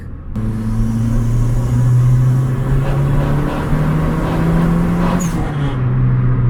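A Suzuki Swift GTI turbo car accelerating on a bridge in traffic, heard from inside as a loud, close, steady engine drone that rises slightly in pitch.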